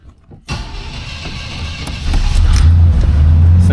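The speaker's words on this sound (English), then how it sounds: "Windows work. I'm gonna roll them up." Power windows on a 1988 Monte Carlo SS hum upward with a steady whirring motor close by. The car is idling after a cold start and its engine rumbles beneath the window motor.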